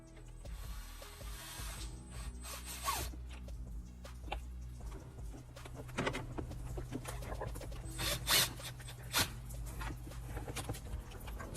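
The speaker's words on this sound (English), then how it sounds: "So let's go ahead and pull this out. Again, you have two T15 star screws." Two T15 star screws being backed out of a Mercedes-Benz W205 head unit, giving close, quiet clicking and ratcheting with small scrapes and rubs of metal against plastic, and no talk.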